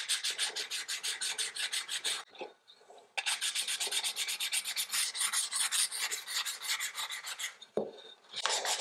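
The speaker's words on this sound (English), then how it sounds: "Sand a little more around the edges if you like" Sandpaper rasps over milk-painted wood to distress the finish, in quick, steady back-and-forth strokes close by, with two short pauses between runs.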